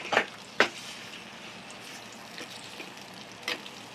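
Masala paste frying in oil for a mutton dish: a faint, soft sizzle with a few sharp splutters and pops standing out over it, and no talking.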